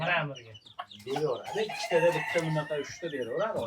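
Ornamental dwarf chickens, including Korean-breed chicks, cluck and squawk close by on a farm, with a rooster-like call and higher peeping cries mixed in, a busy, overlapping flock chatter.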